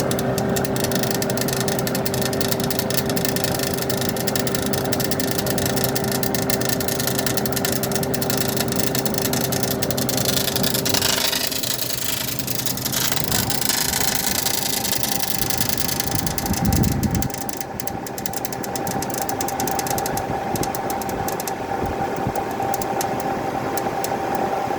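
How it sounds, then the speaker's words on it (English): A dehumidifier fan with something striking its shroud runs as a steady mechanical drone and hum with a constant tone, close and loud, with a brief thump and a shift in the noise partway through, and no voices. "This thing, something's hitting the fan."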